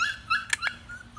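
A dog lets out brief high whimpers and a sharp yip, close and fairly loud, in a quick uneven burst just over a second long.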